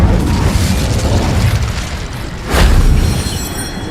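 An Incendio fire spell is cast with a loud, continuous roaring rumble. A sharper, heavier whooshing burst surges partway through, and no voices are heard.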